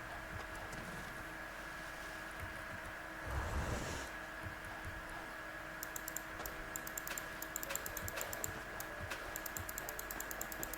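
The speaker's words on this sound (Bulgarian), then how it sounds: "Аутокликъра на мишката е просто супер." A computer mouse autoclicker produces rapid, light, regular clicking that starts partway through and continues steadily over a low background hiss, with a brief louder rustle before it.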